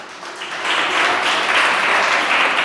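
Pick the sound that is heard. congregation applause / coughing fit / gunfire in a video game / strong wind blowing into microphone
congregation applause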